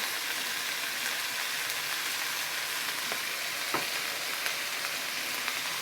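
Light soy sauce hits a hot wok during stir-frying, giving a steady, dense sizzle throughout, with a few faint clicks of a utensil against the pan.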